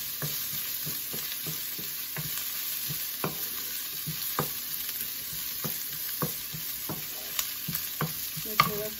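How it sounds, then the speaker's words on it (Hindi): Ginger, garlic and curry leaves frying in a pan over medium heat for Kerala-style moru, a steady quiet sizzle broken by scattered scraping clicks of a spoon stirring. "मीडियम आंच पे चलाएंगे"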